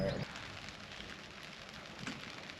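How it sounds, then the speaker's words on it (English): Steady rain patters outdoors at a summer campsite, a continuous soft hiss at moderate level with a brief voice at the very start. "It's raining again."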